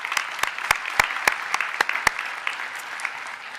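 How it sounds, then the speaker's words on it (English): Applause for an absent honors award recipient at a university pharmacy school honors ceremony, scattered claps from a modest audience with a few sharp individual claps standing out, steady and moderately close throughout. "Let's give him a round of applause."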